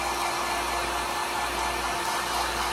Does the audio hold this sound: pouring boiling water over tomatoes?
no